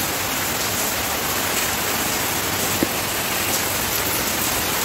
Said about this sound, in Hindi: पहली बार इतना तेज बारिश हो रहा है